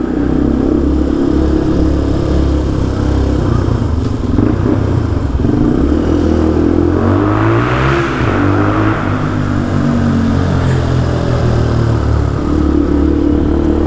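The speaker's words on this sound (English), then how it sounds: "I really like the way this exhaust sounds" A Benelli TNT 135 motorcycle with an aftermarket exhaust runs loud and close, a throaty burble that rises in a revving sweep midway before settling back.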